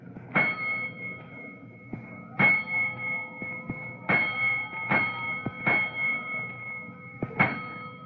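Fire alarm call tapping in at headquarters, a series of sharp metallic bell strikes, each ringing out and decaying, about six evenly spaced clangs interleaved with faint clicks, alone and fairly loud.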